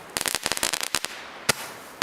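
A Lidl Mysterie 20-shot 25mm firework battery fires outdoors in a rapid string of sharp, close pops and cracks, then spaced single shots trailing off toward the end.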